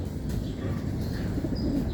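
Racing pigeons coo in a low, throaty murmur, a continuous soft rumble of overlapping calls from a nearby flock, with no talking.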